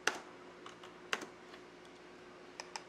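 Computer keyboard typing and a firmer Enter key press while modelling in Rhino 6, sparse clicks with quiet gaps between them, close and soft with no talking.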